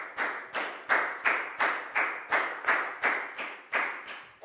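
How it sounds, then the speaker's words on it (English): Students in a primary school English classroom clap together in a slow, even rhythm, about a dozen sharp unison claps spaced roughly a third of a second apart, close and clear. "Big round of applause for Lakgao, please, guys."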